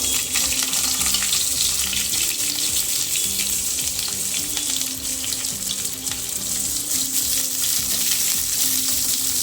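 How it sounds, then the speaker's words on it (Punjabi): Onion is added to a pan of toasted cumin and coriander seeds for an aloo bhindi sabzi, giving a loud, steady sizzle and crackle that carries on without a break, close up and with no talking. "ਜੀਰਾ ਧਨੀਆ ਭੁੰਨ ਹੋ ਗਿਆ ਨਾਲ ਹੀ ਪਿਆਜ਼ ਪਾ ਦਵਾਂਗੇ"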